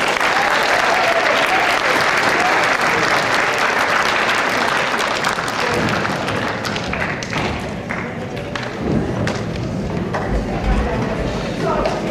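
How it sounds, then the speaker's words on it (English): A school academic awards audience gives a warm round of applause for three award-winning students, continuous clapping that gradually thins, with scattered voices underneath. "Let's give these three students a nice round of applause."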